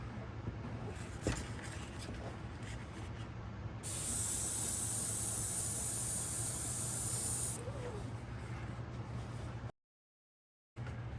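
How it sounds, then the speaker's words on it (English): An airbrush sprays light gray paint for a backdrop, a steady close hiss that swells loudly for several seconds in the middle, with softer airflow before and after and a brief silent gap near the end. "I've got my airbrush tightened down pretty tight"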